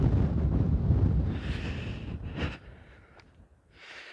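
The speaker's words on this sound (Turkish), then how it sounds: "Rüzgar bir an olsun durmuyor" Heavy wind buffets the microphone in low, rumbling gusts that ease after a couple of seconds, then rise again briefly at the end.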